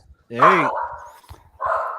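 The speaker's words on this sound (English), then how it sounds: "he's got a dog running around in the backyard. Yep. He's barky today." A dog barks in a backyard, one strong bark with a rising, whining tone and then a second shorter bark, close by, with voices murmuring faintly in the background.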